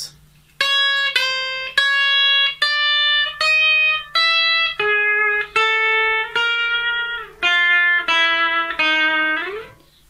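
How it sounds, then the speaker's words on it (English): High strings on a Harley Benton CST-24 electric guitar buzzing badly from a fault: a series of separate plucked notes stepping downward, each ringing briefly with a harsh, rattling edge and a faint low hum underneath. "So they're buzzing all over the neck"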